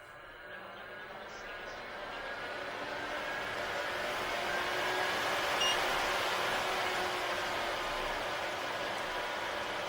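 A MELODYSUSIE nail dust collector vacuum runs at its higher starting speed with a continuous, slightly noisy fan hiss that swells gradually and then holds steady, heard close-up.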